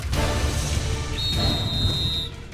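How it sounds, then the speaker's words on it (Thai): Referee's whistle at a youth football trial, a single sustained shrill blast lasting about a second over loud crowd and outdoor background noise. "เสียงนกหวีดดัง"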